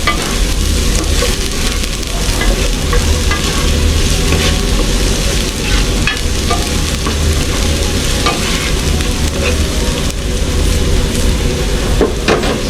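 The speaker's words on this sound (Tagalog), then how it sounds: "nagisa na ang ating mga bawang sibuyas luya" Garlic, onion and ginger sautéing in a pan for a Filipino beef offal papaitan, a loud continuous close sizzle with scraping stir sounds throughout, no voices.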